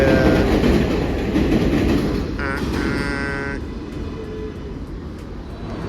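A New York City subway train rides toward Grand Central, a steady loud rumble of wheels and car noise filling the clip, with a brief squeal midway and people talking faintly underneath.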